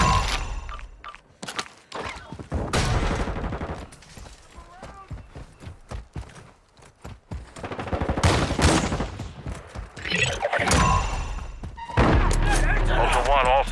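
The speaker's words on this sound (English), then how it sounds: "You are taking effective fire." Call of Duty gunfire crackles throughout a chaotic firefight, with dense bursts of shots and mechanical clatter in the game, mixed with in-game radio voice lines.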